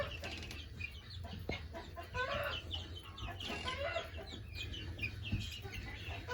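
Guinea fowl being moved call and cluck in a busy, overlapping chorus of chattering cries, with some rustling and a brief thump, fairly close and continuous throughout.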